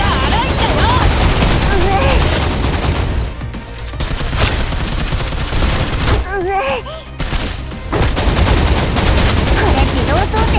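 Burst fire from an auto-loading gun in the Snowbreak: Containment Zone video game, dense rapid gunshots almost throughout, with a short lull partway and chirpy game effects mixed in.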